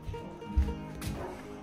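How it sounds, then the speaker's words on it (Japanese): A Labrador retriever at a swimming event gives a couple of short, low barks late at night, the loudest near the start, over a steady murmur of background noise. "もうこんな時間に吠えちゃダメです"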